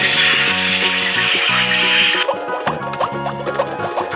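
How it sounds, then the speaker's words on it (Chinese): A Peppa Pig children's toy gas stove plays a soup-boiling effect up close, a loud sizzling hiss over a simple looping tune, then a stream of small bubbling plops once the hiss cuts off. "煮汤的声音"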